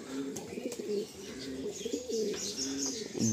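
Kaldom pigeons cooing close by in a loft, soft repeated low coos in a steady rhythm, with a few higher chirps over light background noise.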